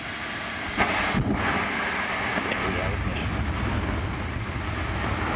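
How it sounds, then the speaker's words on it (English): Antares rocket engines at liftoff on a resupply launch to the space station, a broad, heavy roar rising from a distance and holding steady, with a voice speaking over it. "we have liftoff of Antares with the orbit 3 mission"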